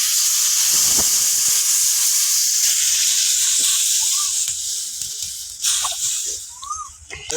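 Water poured into a hot pan with eggplant gives a loud, steady hiss of steam that slowly fades, with a few faint clicks and scrapes toward the end.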